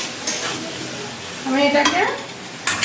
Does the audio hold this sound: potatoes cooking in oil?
yes